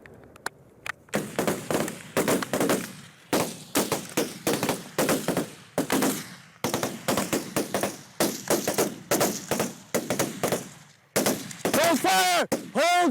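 Rapid bursts of rifle and machine-gun fire during weapons training, loud and close, coming in repeated sharp volleys with brief pauses, and a voice shouting near the end.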